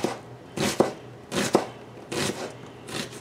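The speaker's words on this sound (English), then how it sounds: "I'm just going to chop this up finely as well" A knife chops finely through an onion on a cutting board in four separate bursts of rapid strokes, each ending in a sharper knock, close and clear with no talking.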